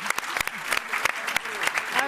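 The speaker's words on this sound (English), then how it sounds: "Please clap." A conference audience claps at a journalism symposium session, scattered distinct hand claps forming a light, uneven patter for about two seconds.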